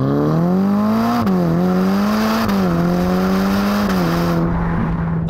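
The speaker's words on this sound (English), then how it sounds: "I'm going to put the car into sport mode, and now, if we can, give it some beans." A Ferrari Roma in sport mode accelerates hard, its engine note rising steadily through each gear, with clear dips at the upshifts. The sound is loud, close and sustained, with no talking.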